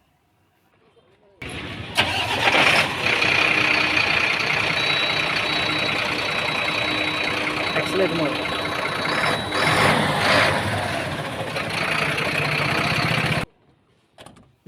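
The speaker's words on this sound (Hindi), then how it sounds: "और अभी इंजन को स्टार्ट कर इंजन का साउंड सुनाएंगे।" A BharatBenz 4228R BS6 14-wheeler truck diesel engine starts with a crank and settles into a loud, steady idle close by for about twelve seconds, with someone talking over it.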